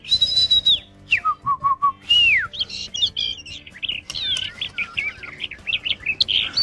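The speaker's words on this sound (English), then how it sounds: "Hey, a bird!" A small bird chirps and tweets in a lively series of whistled calls, starting with a few long descending whistles and then breaking into rapid, varied twittering, close and clear with no talking.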